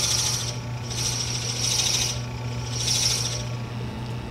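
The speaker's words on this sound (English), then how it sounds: "I'll just bore to that depth" A Forstner bit bores a shallow 1/4-inch-deep hole into wood spinning slowly on a lathe, giving a steady hum with three close, repeated rasping bursts of cutting, each about half a second long.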